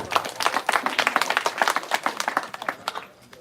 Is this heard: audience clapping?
yes